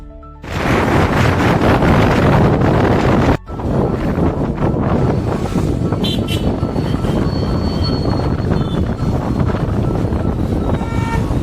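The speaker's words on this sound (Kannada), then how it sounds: "ಗಾಳಿ ಭಾಳ ಬೀಸಾಕೊಂತ್ರಿ" Loud, roaring gusts of strong wind buffet the microphone almost continuously at Gokak Falls, with a brief lull before the rushing noise resumes.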